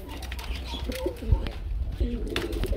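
A pair of large Giribaz pigeons at a pigeon farm, cooing in low repeated calls close by amid background clatter and faint voices.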